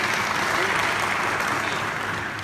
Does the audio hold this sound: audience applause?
yes